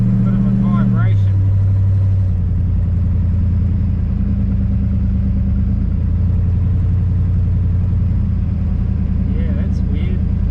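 The 350 small block engine in a 1946 Chevy pickup runs steadily with a deep, rattly rumble and vibration, loud and close, as the idle drops slightly early on and then holds while people talk over it.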